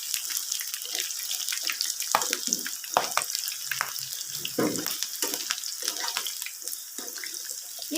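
Curry leaves sauté in hot oil among batches of fried potato, giving a bright crackling sizzle broken by repeated scraping and stirring clatters, close by and without talk.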